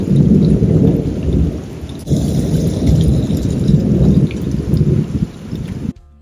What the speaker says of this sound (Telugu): ఈరోజు అయితే మాత్రం మాకు ఫుల్గా వర్షం పడుతూనే ఉంది.